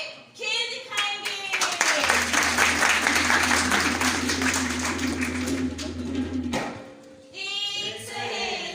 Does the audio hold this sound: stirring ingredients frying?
no